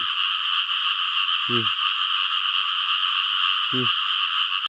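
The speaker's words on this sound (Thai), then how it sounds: "แก้วเจอกบขู่เลย" A frog croaking twice in short rattling bursts over a loud, constant chorus of insects or distant frogs in a rice field at night, the two croaks well spaced and fairly close.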